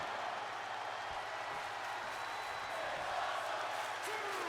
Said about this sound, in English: The crowd chanting, "This is awesome,"